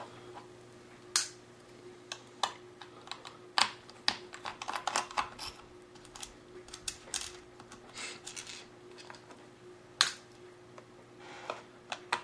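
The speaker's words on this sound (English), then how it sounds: "So we're just going to remove all of these screws." Screws come out of an HP ze2000 series laptop, giving sparse small metallic clicks and ticks at irregular intervals over a faint steady hum, close and quiet with no talk.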